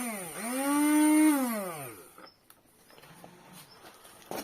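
An old repaired blender motor spins up with a rising whine, holds a steady hum for about a second, then winds down and stops, leaving a quiet room with faint clicks.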